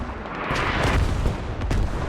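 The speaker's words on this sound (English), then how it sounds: "One guy here is in the path of this artillery strike." Artillery strike explosions rumble and crack in the Squad combat game, a dense, loud barrage of booms and blasts rolling one into another with sharper hits near the middle and end.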